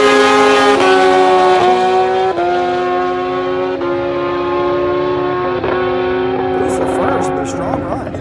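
Turbocharged Kawasaki KZ1000R and Suzuki Hayabusa motorcycles drag racing, their engines screaming loud and close as they climb through the gears with brief dips at each shift, sustained and strained down the track.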